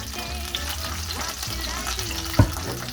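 Olive oil sizzles and fries steadily in a pan while cooking a seafood and fish stew, a continuous close crackle with a brief sharper clatter of a utensil near the end.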